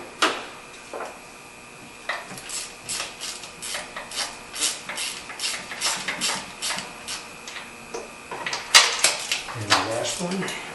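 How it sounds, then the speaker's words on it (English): Ratchet with a swivel spark plug socket loosening spark plugs on a 2011 Toyota Tacoma, a steady run of close, scratchy clicks in quick strokes, with a clatter of metal toward the end. "Now I'm using a spark plug socket that's actually got a swivel on it."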